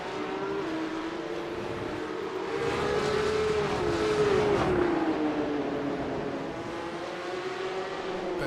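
Porsche Supercup race cars lapping the Hungary round circuit, a steady high engine drone whose pitch rises and falls as the cars accelerate and pass, swelling slightly in the middle with no talk.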